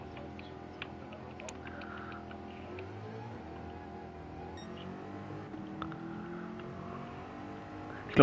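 Race car engine in a Gran Turismo-style racing game at Laguna Seca, a GR.4 class car on track, holding a steady droning hum with gear-like shifts in pitch throughout, fairly quiet and continuous with small ticks on top.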